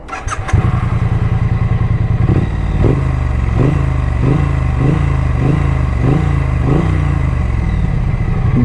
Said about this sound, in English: So let's hear the exhaust sound.